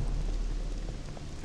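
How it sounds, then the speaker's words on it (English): Steady rain in The Witcher 2, heard as a continuous dense wash of patter over a low rumble, with no talking. "Ah, but it's not raining on the kid, Wenis."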